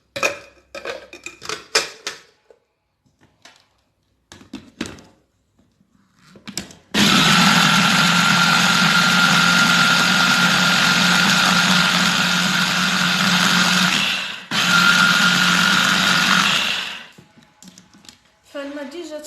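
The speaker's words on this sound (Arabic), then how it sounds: "دابا غادي نطحنوه يعني باش كاع العناصر يندمجوا مع بعضياتهم اكثر" An electric blender grinds flaxseed with onion water, a loud steady whirring drone that stops briefly and restarts, framed by clinks and handling noises before and after.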